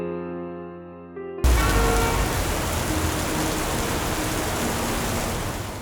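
Steady, heavy rain pours down on a street where a traffic officer is working, a dense, even hiss that starts abruptly after a brief stretch of music and continues unbroken.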